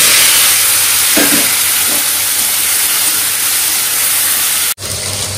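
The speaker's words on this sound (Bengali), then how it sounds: "ফোড়ন দিয়ে দিয়েছি।" Spices tempered in hot oil give a loud, steady sizzling hiss close by, continuous throughout with a brief dip near the end.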